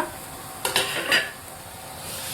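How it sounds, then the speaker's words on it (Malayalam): Lemon pieces stirred into a Kerala-style lemon pickle, a few quick scraping stirs with brief sizzle-like rustles, close and fairly loud, no voices. "അപ്പോൾ ഇതിലേക്ക് നന്നായിട്ട് മിക്സ് ചെയ്ത് കൊടുക്കുക"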